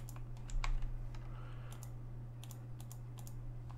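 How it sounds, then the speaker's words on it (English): A computer mouse clicks over and over during a session of the online game EverQuest, with sharp, close clicks arriving in uneven bursts over a steady low electrical hum. "Oh my gosh, I gotta stop clicking."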